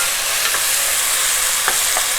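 Tomatoes and green chili sizzle in hot oil with cumin seed at medium-high heat, a loud, steady, close frying hiss with a few faint utensil taps.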